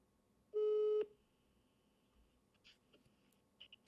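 A single steady telephone tone sounds for about half a second while a call is placed, loud and alone, followed by faint clicks and small handling noises.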